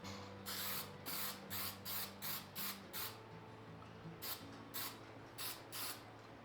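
Clear satin sealer sprays onto wooden Christmas decor in about a dozen short, crisp hissing bursts from an aerosol can, with faint mechanical clicks in the background.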